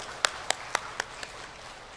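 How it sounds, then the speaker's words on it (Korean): In a Korean church during a Sunday service, about five faint, evenly spaced claps ring out in a steady beat before fading away. "우리 다 같이 박수하시겠습니다."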